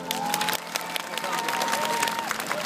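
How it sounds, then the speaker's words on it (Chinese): Applause and cheering rise from a large outdoor audience at a fireworks festival concert in Houlong, Miaoli, a steady wash of clapping and crowd noise under a voice speaking over a sound system. "大家给他们掌声鼓励"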